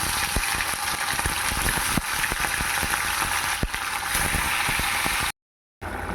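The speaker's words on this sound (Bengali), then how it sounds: "তেল গরম হয়ে গেছে তেলের ওপর মাছগুলো দিয়ে দেবো" Parshe fish hits hot oil in a pan, setting off a loud, dense, continuous sizzle with small crackles throughout, then a brief drop to silence before the sizzle comes back.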